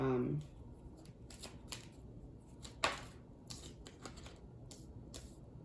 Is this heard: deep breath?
no